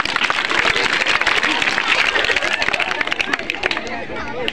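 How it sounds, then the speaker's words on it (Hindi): An audience at a magician's street show in Pilibhit claps loudly and steadily, a dense wash of hand clapping mixed with crowd hubbub throughout. "ताली बजाइए"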